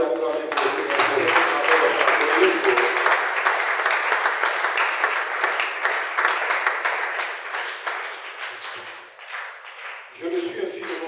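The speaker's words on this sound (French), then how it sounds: "Est-ce que quelqu'un peut acclamer pour le Seigneur Jésus?" A church congregation applauding and cheering in praise, sustained loud clapping and voices filling the room for several seconds before tapering off, then rising briefly again.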